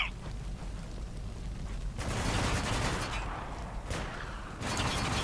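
Bursts of gunfire in the video game Spec Ops: The Line, pistol shots rattling over a dense, noisy battle background with several loud volleys.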